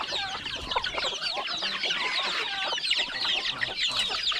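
A large flock of laying hens on a provincial farm clucks and squawks continuously, a dense, close chorus of overlapping calls with no talk.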